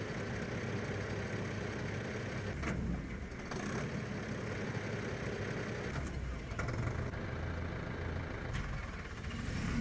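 Combine harvester engine idling in Farming Simulator 2015, a steady low mechanical rumble running throughout with a few brief dips and clicks, no talking.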